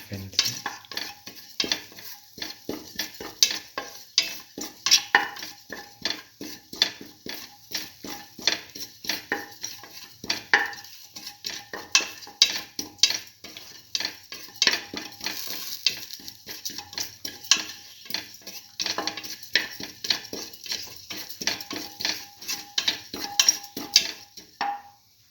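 Fennel seeds sizzle and fry in a hot pan while being stirred, giving a steady crackle broken by frequent scraping clicks of the spoon against the metal, constant and close throughout with no voices.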